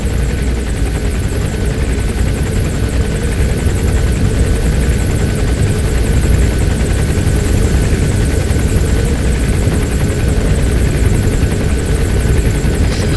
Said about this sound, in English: Chopper will be arriving any minute.